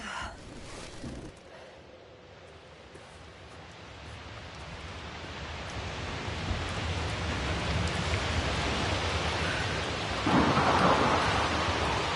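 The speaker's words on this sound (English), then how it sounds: "The storm's getting worse." A thunderstorm with heavy rain: a steady, loud downpour with deep rumbling thunder that gradually swells and grows louder toward the end.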